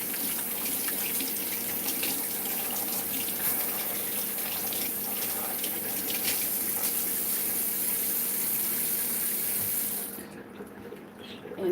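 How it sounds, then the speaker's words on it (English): Kitchen tap water running steadily while hands are washed, a close, even hiss and splash for about ten seconds before the flow stops. "I'm going to wash my hands for a second,"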